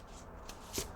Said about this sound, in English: Give me a sec to shuffle.